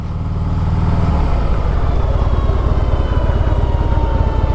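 Harley-Davidson motorcycle riding past with a loud, deep, rumbling exhaust that swells up in the first second and then holds a steady, close, throbbing roar, with no voices.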